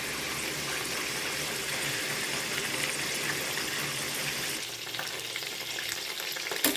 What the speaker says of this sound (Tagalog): Hintayin na lang natin siya na maprito.